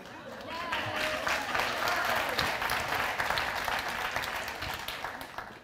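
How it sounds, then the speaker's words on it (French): An audience at a church gathering applauds in a dense, sustained burst of many hands clapping, loud and close, holding steady for several seconds before easing off. "You're so very kind to applaud."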